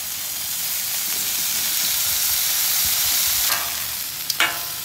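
Kabobs and vegetables sizzle steadily in oil on a flat griddle, a continuous close frying hiss throughout with a couple of brief sharper crackles near the end.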